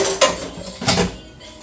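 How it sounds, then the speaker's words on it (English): A metal spoon clinks and scrapes against a cooking pan while oil is spooned out, with two brighter knocks and softer scraping between them, close up and without talk. "I'm going to take a little bit of this oil out of this pan"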